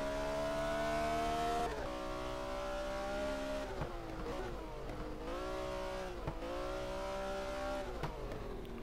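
A Pagani Zonda R in Race 07 revs hard through repeated gear changes, its loud engine note climbing, dropping sharply at each shift, then climbing again in a rhythmic cycle.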